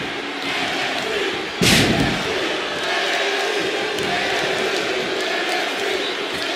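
Wrestling video game crowd roaring in a sustained, dense wash of cheers, with one sharp impact thud briefly cutting through near the start.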